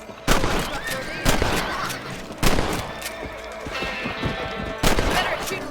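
Rifle shots at rabbits in Red Dead Redemption come as loud, sharp cracks spaced about a second apart, five or six in all, with a horse whinnying and faint clatter between them.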